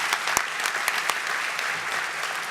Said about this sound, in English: give all of our athletes one more round of applause and congratulations.